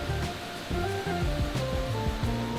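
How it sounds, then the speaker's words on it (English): Waterfall and cascades tumbling down a creek beside a hiking trail on Monte Sano, a steady broadband rush of water filling the scene, close and continuous with no voices. "Lots of waterfall and cascades going down this creek."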